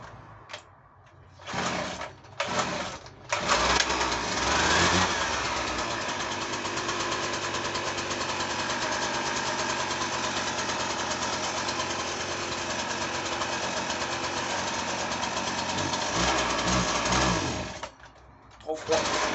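A two-stroke leaf blower engine runs cold with its air filter fitted, warming up at a steady buzzing idle for most of the stretch, with brief sputters and dips at the start and end.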